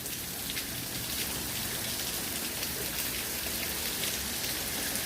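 Steady heavy rain from a supercell storm pours down in a dense, unbroken hiss, loud and close, with no talk.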